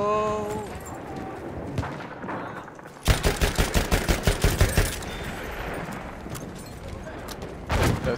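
Automatic gunfire in Battlefield 1 rips out as a rapid burst of about ten loud, evenly spaced shots. Quieter game noise comes before and after it, and one more burst starts right at the end.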